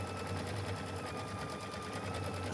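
A sewing machine stitches out a scallop design for a quilt, running steadily and evenly with a fast, regular pulsing hum, close and uninterrupted.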